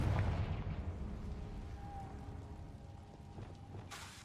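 Confringo explosion spell cast in Hogwarts Legacy, a loud booming burst at the start that rumbles and decays under a steady game ambience, with a brief faint tone midway.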